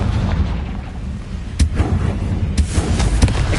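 Confringo blasting spells in Hogwarts Legacy burst into three booming explosions over a steady rumbling game backdrop, each impact punchy and close, spaced roughly a second apart.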